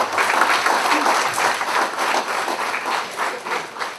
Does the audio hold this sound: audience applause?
yes